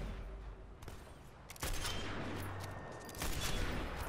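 Bursts of gunfire in the video game Sniper Elite crackle through a busy, loud mix, with sharp shots stacking up and intensifying toward the end.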